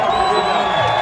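A large crowd cheers and whoops loudly at a lively event in Piracicaba, Brazil, a dense, sustained roar of voices with no break through the short stretch.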